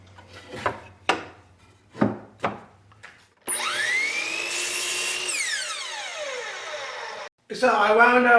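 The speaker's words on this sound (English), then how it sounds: "As I'm cutting out the handles, I'm cutting out the defects in the wood." A power tool cuts a wooden 2x4 into short clamp handles: several brief sharp bursts, then a long loud whining cut with pitch sweeping as the blade slows, then a fresh cut begins.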